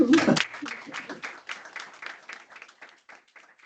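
A short burst of applause from a small group, loud at first and then tapering into scattered, fading claps.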